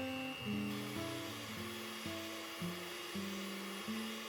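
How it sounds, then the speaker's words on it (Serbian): Electric mixer beating eggs in a bowl, a close whirring motor whose pitch jumps up and down in steps as the beaters move through the eggs, continuous and alone. "U činiju ubacujem jaja i mutim ih mikserom."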